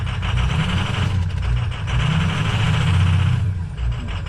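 An old Ford Bronco idles roughly with a misfire, a loud, low, uneven engine chug with a lumpy rhythm that runs close to the microphone for several seconds before briefly dipping near the end.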